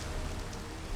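Rain falls in Minecraft Modern Skyblock as a steady, full-bodied hiss of downpour, close and continuous with no voices over it.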